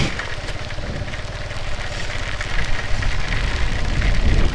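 Monsoon rain pours during a ride near Usgoan waterfall, an even wash of hiss over a low engine-like rumble that swells slightly louder toward the end, with no talking.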